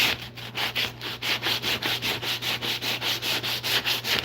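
Coarse 80 grit sandpaper is rubbed over wood in steady back-and-forth strokes, loud and near, roughly three or four passes per second under a low constant hum.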